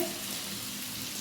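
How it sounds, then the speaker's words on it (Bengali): Onion fries in a pan as chicken is cooked, a short burst of steady, close hissing sizzle at an even level with no talking. "পেঁয়াজটা ভাজা চলছে"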